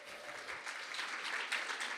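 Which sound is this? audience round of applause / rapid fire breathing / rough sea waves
audience round of applause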